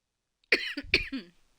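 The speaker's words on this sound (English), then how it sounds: "Oh, the coughs are increased." Two close harsh coughs from a man indoors, the second followed by a rougher throaty hack, loud and near with no talking.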